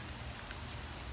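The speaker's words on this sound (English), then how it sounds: "But it's raining." Steady rain falls outdoors on a sunny day before a surf session, a soft continuous wash with no voices heard.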